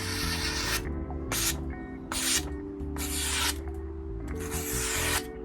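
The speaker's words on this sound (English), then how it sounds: "Cutting beautifully, going very smooth through the paper." Freshly sharpened knife push-cutting through paper, five brisk rasping strokes, each under a second, close and crisp, over a steady low background hum.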